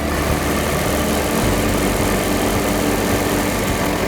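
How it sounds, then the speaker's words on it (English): A Ford Model T engine runs close by with a steady, loud mechanical idle, its low throbbing rhythm shifting slightly partway through as the revs rise a touch. "you can hear the engine rev up a little bit"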